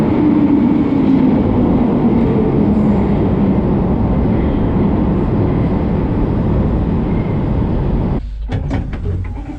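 A London Underground Bakerloo line train, the oldest stock on the network, rumbles loudly and steadily with a broad roar, then the noise shifts near the end with sharp clicks as it slows or doors move.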